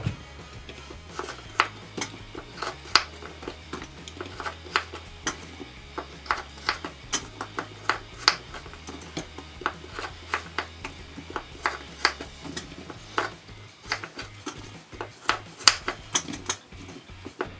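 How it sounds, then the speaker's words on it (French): A knife cutting apples into quarters on a board, giving a run of sharp, irregular clicks and taps close by, with no talking. "Donc les pommes je les coupe en 4."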